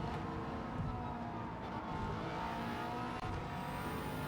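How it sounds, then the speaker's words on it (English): A Subaru Impreza WRX STI with a bored-out 2-litre horizontally opposed boxer four races in Gran Turismo 7 on the Tokyo Expressway, its raspy engine droning loud and continuous with a brief dip near the end. "This is a 2-litre horizontally opposed boxer engine"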